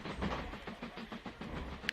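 Train rolling along rails in the video game Mashinky, a faint rhythmic clickety-clack over a low rumbling drone, with a brief high whistle-like blip at the end.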